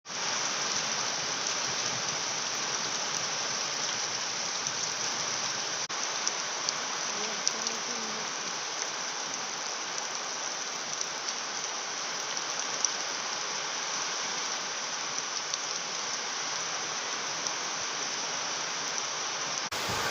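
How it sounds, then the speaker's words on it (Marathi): Heavy rain pours down in a steady, dense hiss, loud and unbroken throughout, with no voices. "पुष्कळ असा पाऊस चालू आहे"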